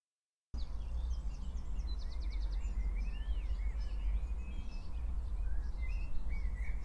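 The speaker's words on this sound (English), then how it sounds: "I think I hear some birds." Birds chirp and tweet continuously in the Rec Room video game, with a busy run of small bright calls over a low rumble at a quiet, distant level.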